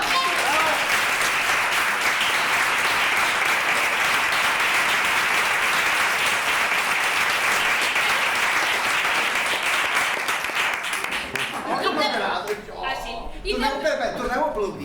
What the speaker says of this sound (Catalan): Aquesta gent també es mereix un fort aplaudiment.